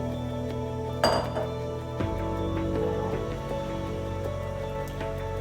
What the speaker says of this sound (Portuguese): Vamos misturar aqui a farinha, não precisa de desespero